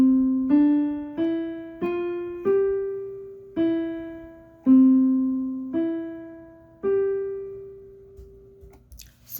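A short piano melody of nine notes, C D E F G E C E G, played at an even pace with each tone ringing and decaying, stopping without resolving to the home note so it sounds like an open musical question.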